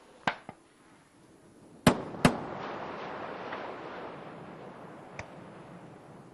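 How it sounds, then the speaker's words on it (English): Sonic booms from Space Shuttle Endeavour returning to land on mission STS-127: a sharp single crack, then a close double boom with a rumbling decay, and a fainter pop near the end. "Sonic booms audible at the landing site."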